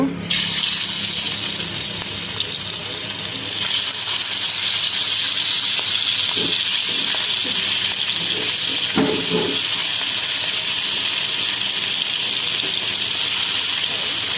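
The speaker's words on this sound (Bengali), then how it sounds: "আমার তেলটা গরম হয়ে গেছে এখন আমি এক পিস এক পিস মাছগুলো দিয়ে দিব" Pieces of boal fish fry in hot oil with a loud, steady sizzle and hiss, joined by a few soft clatters partway through as the pieces are laid in.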